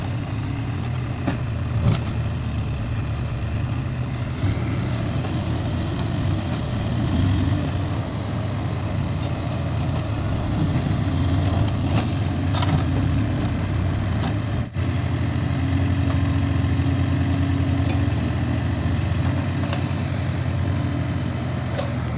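Two vehicles working a hilly field being cleared for farming, their engines running at a steady low idle throughout, a continuous rumbling drone from fairly close with no talk.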